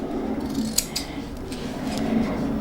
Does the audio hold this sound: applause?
no